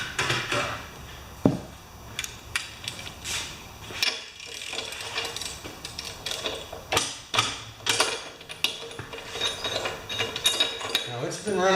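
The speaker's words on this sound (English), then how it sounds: "get a spark plug wrench" A spark plug wrench ratchets and clicks as it loosens the plug on a Tecumseh lawn mower engine, with repeated close metallic clicks and scraping, and a person talks briefly amid the work.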